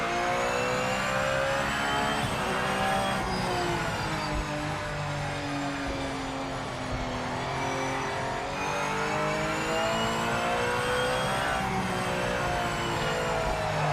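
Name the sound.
race car engine in Project Motor Racing video game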